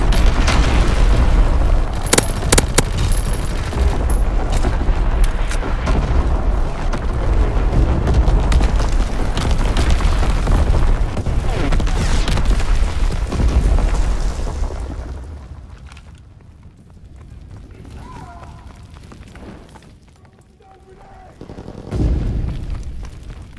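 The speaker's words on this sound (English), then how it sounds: "Incoming enemy artillery! Get to cover!" Enemy artillery pounds a London Docks team deathmatch in Call of Duty: WWII, loud overlapping booms and rumbling blasts rolling continuously for about fifteen seconds before easing to a quieter lull, with one more thud near the end.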